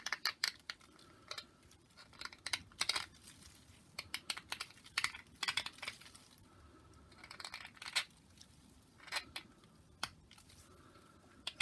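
Knife trimming a lab stone dental study model, producing close, irregular dry scraping and clicking strokes in quick sharp bursts, with short pauses between cuts.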